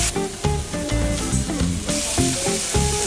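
Food frying in a hot pan crackles and pops in quick irregular bursts over a steady sizzle, close and fairly loud, with no voices.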